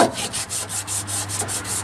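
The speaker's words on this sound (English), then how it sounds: "I'm going to clean this rust off the shaft" Emery cloth scrubbing rust off a motor shaft during a tank motor install: quick, even back-and-forth rasping strokes, about eight in a row, close and fairly loud with no talking.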